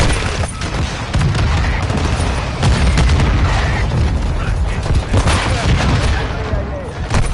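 Dense gunfire and explosions fill a Call of Duty Warzone MW2 match, with loud continuous bursts, booms and rapid shots layered throughout, while game voice callouts sound over the combat.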